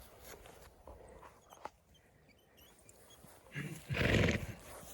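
A Novoalexandrovsk draught horse snorts and stamps nearby, with a burst of louder rustling and movement near the end; no talking.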